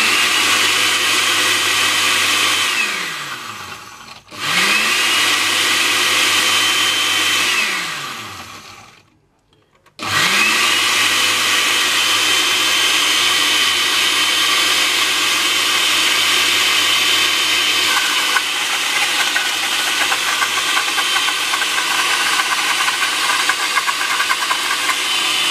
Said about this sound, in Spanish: Agarramos la licuadora, la ajustamos bien y licuamos.